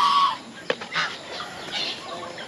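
Calls from caged turkeys: a few gobbling, clucking cries rising and fading over a faint background hiss, with one sharp knock in the middle.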